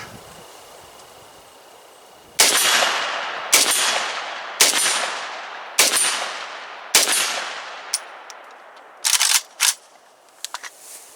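A Palmetto State Armory AK-104 rifle with a 30-round magazine fires about six loud, evenly spaced shots, each with a ringing outdoor tail, followed by a few quicker, fainter bursts and clicks.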